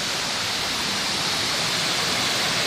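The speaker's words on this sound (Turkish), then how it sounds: "Bura bayağı yüksek bir şelale." Kurşunlu waterfall in the Salihli valley, Manisa, a loud, unbroken roar of falling water, broadband and steady throughout with no voices.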